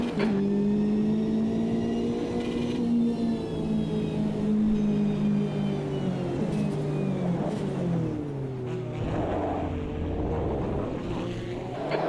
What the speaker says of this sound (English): Here come the Group C class cars.